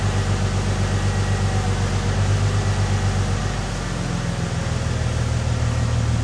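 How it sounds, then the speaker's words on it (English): A Bentley Continental GT engine idles with a vacuum leak, a steady close mechanical drone with a constant hissing wash over it. "I can still hear a vacuum leak somewhere, probably because I didn't put any clamps on it."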